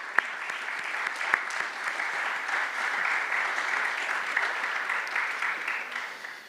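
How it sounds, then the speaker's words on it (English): Guests at a military colonel's retirement ceremony give a steady round of applause, a few sharp individual claps standing out early, the clapping fairly soft and continuous throughout with no talk. "let's just give the two of them just a round of applause"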